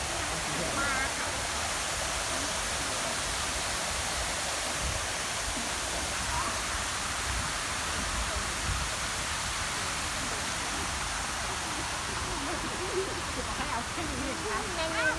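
A waterfall at a park roars as a steady, broadband rush of falling water, constant and close throughout, with faint voices beneath the wash.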